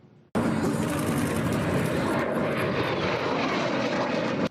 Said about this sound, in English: it's not a bird, but a plane streaking through the Gatineau skyline